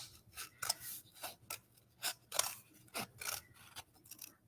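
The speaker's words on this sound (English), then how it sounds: "I'm cutting these in half." Scissors snipping through cardboard toilet paper tubes to cut them in half, a quick series of close, crisp cuts and rasps with short pauses between them and no voices.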